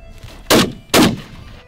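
Two loud shotgun blasts about half a second apart, sharp and close, fired while shooting ptarmigan on a hillside at around 3,000 feet, each decaying quickly into open-air quiet.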